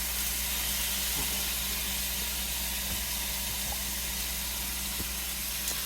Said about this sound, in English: So look at that, seared real good on the back.